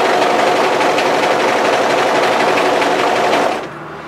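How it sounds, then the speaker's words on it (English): An overlocker sergeing the long outside edge of a mid-length wrap cardigan, a loud steady high-speed mechanical whir running continuously before stopping abruptly near the end. "So place that to your overlocker and start overlocking that together."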